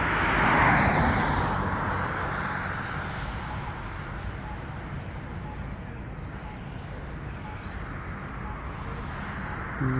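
Steady morning traffic on an American street, a continuous broad roar of cars passing nearby, loudest at the start and holding level throughout with no voices.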